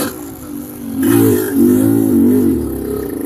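A trail motorcycle engine revs hard in low gear, rising into two loud surging pulls with a droning mid-range tone before settling back to a steady idle rumble, close up with no talking.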